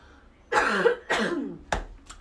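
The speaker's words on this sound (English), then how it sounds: "I'm going to cough right as I start this" Two harsh coughs in quick succession, followed by a sharp throat-clearing burst and a softer final hack, close and fairly loud.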